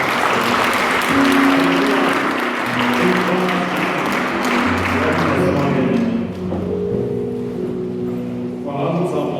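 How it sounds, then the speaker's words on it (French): An audience at a French-language church service claps and cheers loudly and continuously, then the applause thins out and fades after several seconds while a voice comes in over the last of it. "Est-ce qu'on peut acclamer très fort?"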